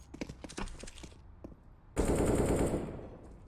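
Bursts of MAC-10 submachine gun fire in Counter-Strike on the Overpass map, with short rapid volleys followed by a loud sustained spray that fades into ringing echoes.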